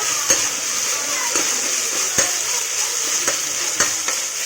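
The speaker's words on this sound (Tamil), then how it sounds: "இஞ்சி பூண்டு பேஸ்ட்டு நல்லா ஃப்ரை பண்ணிவிட்டு" Ginger garlic paste fries in hot oil with a bright continuous sizzle, punctuated by regular clinks and scrapes of a stirring spoon against the pan, heard up close.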